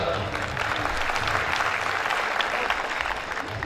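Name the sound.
audience applause at a school farewell party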